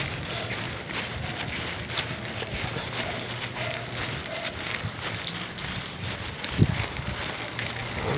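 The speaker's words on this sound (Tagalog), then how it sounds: "Lalo pa ngayon umuulan." Steady rain falls outdoors on a wet day, a constant broadband wash with a faint low rumble beneath it, heard alone with no talking and one brief soft knock near the end.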